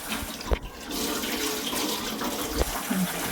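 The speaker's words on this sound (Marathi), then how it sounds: "4-5 पाण्याने असं चांगलं चोळून धुवून घ्यायचं" Semolina wheat grains being rubbed and washed by hand in water, soft sloshing and trickling with a couple of sharp knocks against the vessel, close and fairly quiet, no talking.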